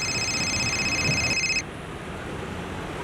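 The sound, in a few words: phone ringing on an outgoing call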